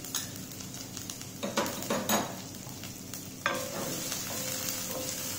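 Fresh garlic sizzles in a spoonful of hot mustard oil in a pan, a steady frying hiss broken by several sharp stirring scrapes and clinks of a utensil against the cookware.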